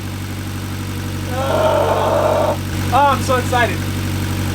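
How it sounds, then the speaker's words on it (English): A Mitsubishi Evo X idles steadily after a timing chain rebuild, a close, even engine hum running throughout while someone speaks excitedly over it. "I let the engine warm up for a little bit"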